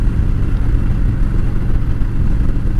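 A Harley-Davidson Road King with the Milwaukee-Eight 107 engine runs with a continuous loud, deep, throbbing rumble, steady and close with no talk.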